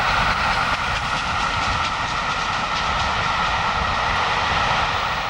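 Steam locomotive 4472 Flying Scotsman on the move: a continuous, loud, broadband roar of train running noise with a steady whine and faint rhythmic chuffing, no voices.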